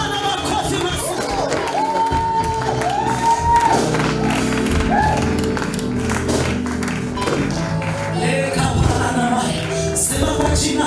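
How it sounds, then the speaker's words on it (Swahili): A church congregation at a night prayer vigil claps and cheers amid musical tones and shouting, a busy, continuous crowd sound with voices mixed throughout. "Bwana makofi mazuri."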